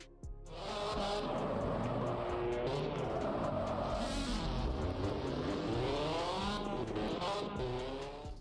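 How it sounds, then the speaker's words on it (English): Race cars in the mobile racing game Gran Velocita roar continuously, with rising and falling engine pitches from several cars and occasional tire squeals, loud and sustained with no speech. "Gran Velocita is a brand new multiplayer racing game"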